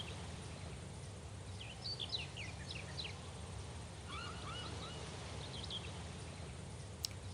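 Seagull cries from the I Spy Treasure Hunt video game drift in faint short bursts over a constant low background hum, with a small click near the end.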